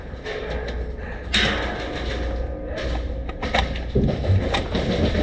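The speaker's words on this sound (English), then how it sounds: "I'm gonna put my mag back in" A magazine is seated into a KWA LM4 gas blowback airsoft rifle, giving a few sharp metallic clacks and a thud against outdoor background noise.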